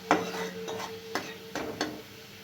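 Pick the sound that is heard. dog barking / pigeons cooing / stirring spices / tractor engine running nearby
stirring spices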